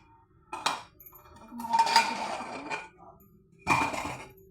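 A hot lid is lifted off a cooking pot of chana batata bhaji, giving a few close metallic clinks and scrapes with a brief rattle in between, and no voices.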